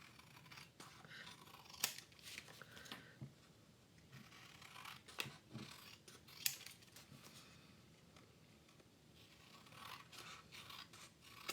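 Paper is cut with scissors in a close, quiet run of scraping snips and rustles, a few sharper cuts standing out, with no talking.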